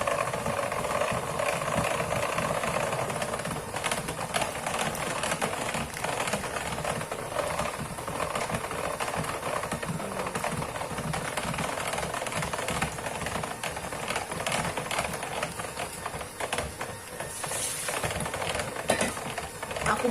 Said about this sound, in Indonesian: Nah, mixer terus sampai kayak halus gitu loh.